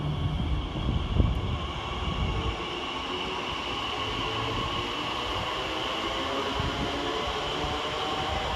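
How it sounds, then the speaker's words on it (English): A TfL Rail electric train, unit 345015, pulls out of Stratford station on the Shenfield to London Liverpool Street service with a steady rolling rumble and motor whine. A brief clunk comes early, then the sound settles into a continuous drone. "345015 departs with the 2008 TfL rail service from Shenfield to London Liverpool"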